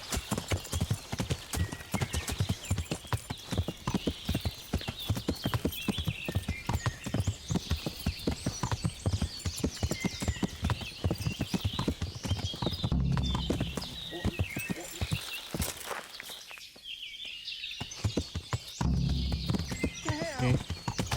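Horses clop along at a walk in the medieval game Kingdom Come: Deliverance, a steady rhythmic run of hoofbeats with a whinny breaking through, the hooves briefly dropping away before resuming.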